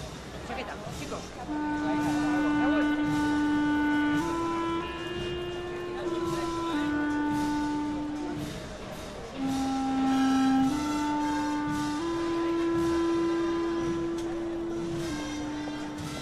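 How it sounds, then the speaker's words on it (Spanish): Solemn Holy Week processional march in Seville inspired by the Our Father prayer, played by a band with sustained brass-like tones moving through slow stepwise phrases, steady and full throughout with no talk. "su tema está inspirado en un Padre Nuestro que suena así"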